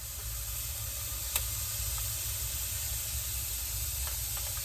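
Pancake batter poured onto a hot pan coated with cooking spray gives a quiet, steady sizzle with soft hiss and a few tiny pops, faint and continuous with no talking.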